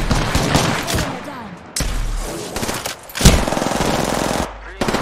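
Shotgun blasts from the Apex Legends video game come as loud repeated bursts spread across the clip, with players talking under and between the shots.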